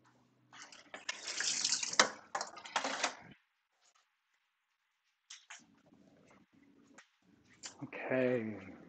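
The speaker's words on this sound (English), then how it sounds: "Let's rinse these." Cyanotype prints are rinsed under running water, giving bursts of splashing and trickling with quiet gaps between them. A short stretch of louder running water comes near the end.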